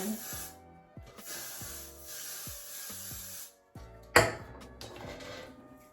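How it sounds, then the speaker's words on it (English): Several hissing bursts of Got2b aerosol hair spray on a lace front wig, one after another, over steady background music. "Go in with some Got To Be spray and just start spraying."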